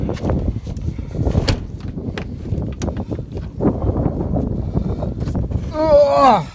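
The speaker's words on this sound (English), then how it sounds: "get the door unlocked here" A door is worked open in freezing, below-zero cold, with a run of clunks and rattling knocks close by and a squeaky, creaking sweep at the end as it swings.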